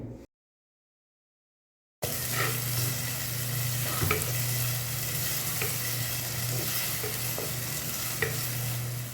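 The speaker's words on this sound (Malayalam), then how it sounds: "കുറച്ച് ഉപ്പും കൂടെ ചേർത്തിട്ട് സവാള നന്നായിട്ടൊന്ന് വഴറ്റിയെടുക്കുക" Chopped onions sizzle steadily with salt in a pan while being stirred, a continuous close frying hiss with occasional scraping clicks of a spoon, no talking.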